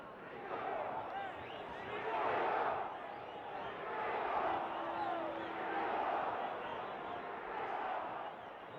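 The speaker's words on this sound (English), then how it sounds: "you hear the crowd picking up the chant for Ringo now" A crowd at a heavyweight boxing match between Muhammad Ali and Oscar Bonavena chants rhythmically, the massed voices rising and falling in waves and filling the arena at a distance.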